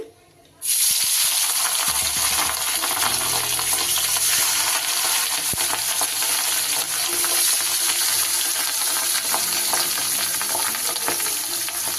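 Pieces of katla fish frying in hot rice bran oil in a kadai, a loud, continuous bubbling sizzle that bursts in suddenly after a brief quiet start and holds steady throughout.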